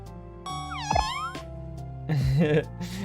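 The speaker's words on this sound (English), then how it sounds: "Oh, that was a really good cat." A cat in the video game Alan Wake gives a single rising and falling meow, followed by another drawn-out, wavering meow, heard over a steady background tone and game music.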